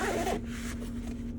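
Zipper on a Bartac seat cover storage pocket in a 2013 Jeep Wrangler Unlimited Rubicon, a short, quiet zip over a low steady hum inside the vehicle.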